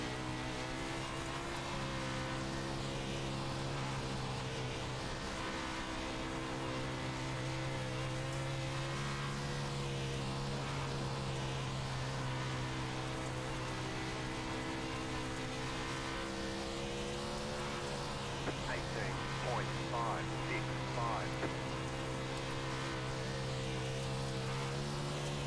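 Dirt sprint cars roar off at the green flag in a World of Outlaws race at Knoxville Raceway in iRacing, a dense wall of droning engines holding steady and loud throughout with faint tire noise.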